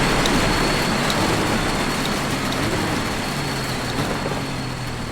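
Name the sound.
rain on car windshield in iRacing video game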